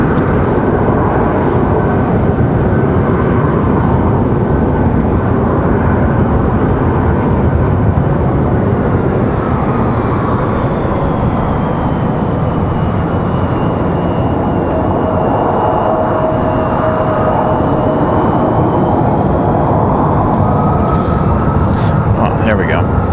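An executive jet at Raleigh-Durham International Airport gives a loud, steady engine roar that fills the whole stretch without a break, with wind-like rushing over it.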